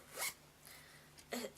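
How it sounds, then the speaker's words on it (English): A zipper on a yarn project bag is pulled in a few short rasping strokes, close and quiet. "I know I'd catch yarn in that zipper"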